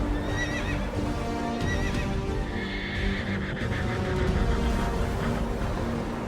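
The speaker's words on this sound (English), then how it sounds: "Egypt's chariots charged into the sea. Wheels clogged with mud. Horses stumbled." Chariot horses stumble and neigh in the sea in a film about Moses and the Egyptian army, with several shrill whinnies over trampling hooves and rumbling noise, loud and close.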